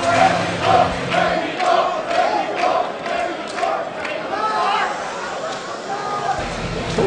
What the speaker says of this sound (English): Man, this crowd is so into it.